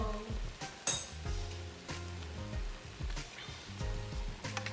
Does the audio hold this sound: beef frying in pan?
yes